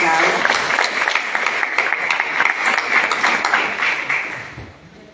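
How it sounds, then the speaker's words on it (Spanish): An audience claps at a panel discussion event, a dense, lively burst of many hands that thins and fades toward the end, with voices mixed in underneath. "Aplausos."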